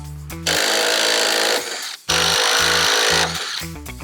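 A power tool torques solar installation hardware in two loud bursts of rapid hammering impacts, each running over a second, with brief stops and quieter mechanical sounds between.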